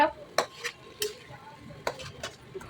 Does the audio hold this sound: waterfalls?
no